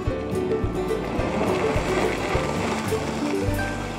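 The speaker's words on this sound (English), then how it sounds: "So I'm gonna get this blended" A blender whirs loudly and steadily as it blends a smoothie at a Community Bike Works gathering in Allentown, Pennsylvania. The motor hum shifts slightly as it runs, with no talking.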